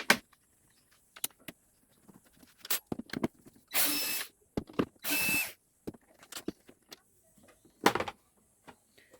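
The top cover of a portable party box speaker is opened, with scattered close clicks and taps and two short whirring bursts like a powered screwdriver in a quiet room.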